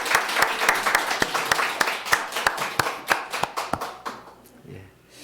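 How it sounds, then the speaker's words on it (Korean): A church congregation applauding to congratulate a newlywed couple and welcome visiting parents, a dense run of claps that thins into scattered single claps and fades out after about four seconds. "우리 박수로 다시 한번 결혼을 축하하고 또 공동체를 방문해 주신 것을 우리 환영하도록"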